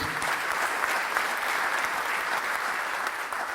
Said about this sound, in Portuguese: Uma salva de palmas ao João Menezes